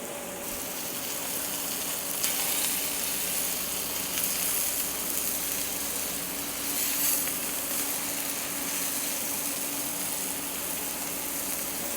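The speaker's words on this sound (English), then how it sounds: "love to hear that sizzle." Chicken sizzles in hot oil in a pan on a home stove, a constant bright crackling hiss that stays loud and even throughout, with no talk.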